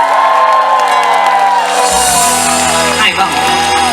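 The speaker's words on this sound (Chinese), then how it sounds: "给自己一个尖叫声加掌声" Concert crowd at an outdoor evening festival show in Pingtung's Millennium Park, loud cheering, screaming and whooping that fills the whole stretch, with a continuous dense roar and no break.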